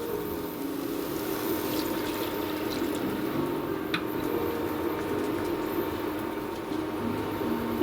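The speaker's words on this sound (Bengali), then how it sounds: "এবার আমি জলটা দিয়ে দেবো।" Water goes into spiced fish curry masala in a pan for a stingray curry, giving a steady liquid hiss and bubbling that holds even throughout with no talk.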